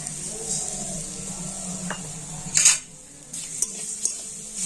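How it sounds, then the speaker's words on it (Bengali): Grated coconut and sugar are stirred in a wok, producing light scraping and occasional metal clinks of a utensil against the pan, with a faint background hiss, no talking. "আর এখন আমি এভাবে কন্টিনিউ নাড়াচাড়া করে একটা পুর তৈরি করে নেব"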